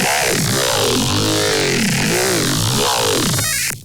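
A processed dubstep growl synth sounds loud and close, with a thick, wobbling tone whose pitch sweeps up and down in repeated swoops, sustained heavily before stopping abruptly.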